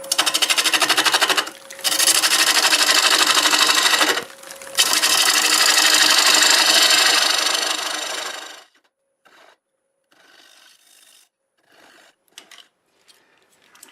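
A half-inch bowl gouge flattens a black walnut bowl on a wood lathe at 750 RPM, a loud steady close scraping hiss broken by two brief pauses, then stopping into faint quiet handling sounds.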